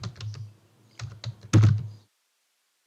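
Typing on a computer keyboard sitting just behind a microphone: a few brief bursts of close, clicky keystrokes, ending in a louder cluster before going quiet.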